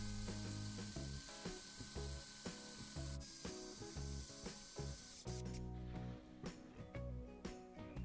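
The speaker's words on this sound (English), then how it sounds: "So now moving on to a spade bit, a 25mm spade bit, quite a large spade bit." A Black+Decker BCD700S 18V cordless combi drill bores through wood with a large 25mm spade bit, giving a harsh, rattling, grinding whir that runs steadily and then breaks into uneven bursts as the bit chatters and the motor slows.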